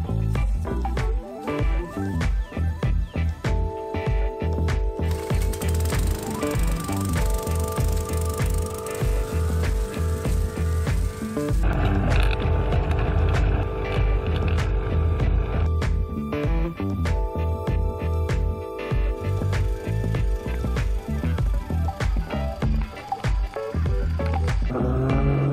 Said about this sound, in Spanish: Ahora tengo que cortar la hierba.